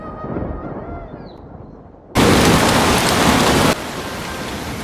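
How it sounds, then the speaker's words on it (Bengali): Heavy rain pours down steadily, a dense hiss that suddenly swells louder for a stretch before easing back to a steady downpour. "আকাশ জুড়ে কালো মেঘে চারিদিক ভরে উঠল আর নামল ঝমঝমিয়ে বৃষ্টি"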